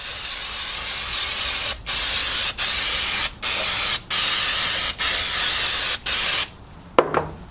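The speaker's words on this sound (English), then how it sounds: "So you spray the whole part down." Short, steady hissing bursts from an aerosol cleaner can spraying a metal part during dye penetrant crack inspection, repeated about seven times with brief pauses between them, loud and close.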